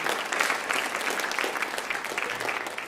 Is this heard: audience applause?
yes